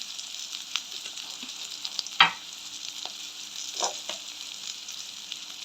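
Fennel seeds and fenugreek sizzle in hot oil, a steady fine crackle with a few sharp pops and spoon scrapes, close and moderately quiet, no voices.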